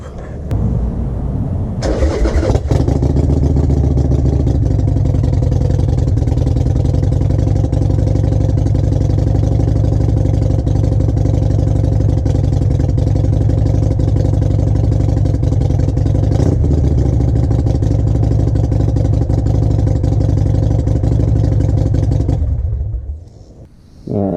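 A Harley-Davidson motorcycle engine cranks, catches and settles into a loud, close, lumpy idle that runs steadily for about twenty seconds before shutting off.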